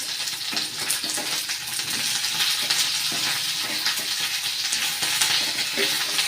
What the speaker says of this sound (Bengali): এরপর এটাতে দিয়ে দিচ্ছি পেঁয়াজ কুচি